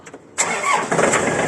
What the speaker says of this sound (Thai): อยากฟังเสียงเครื่องยนต์นะฮะเดี๋ยวจัดให้นะครับตัวนี้